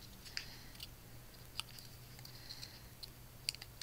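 Scissors snip paper scraps in a few faint, sharp, isolated cuts spaced irregularly against a quiet hum, close by during card-making with stamped paper.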